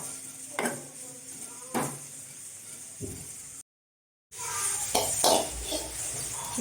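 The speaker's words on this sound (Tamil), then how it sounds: "இப்போது நெய் நல்லா ஹீட் ஆகிட்டு அதில் வந்து சேமியா சேர்த்துக்கலாம்" Vermicelli fries in hot ghee with a steady sizzle as a utensil scrapes and clinks against the pan in a few distinct strokes. A brief silent gap breaks the sound partway through, and there is no talk.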